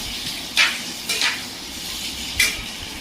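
Chopped tomatoes are stirred into onions browned in oil for a mackerel fish curry, with a low, steady sizzle broken by three brief, bright scraping stirs.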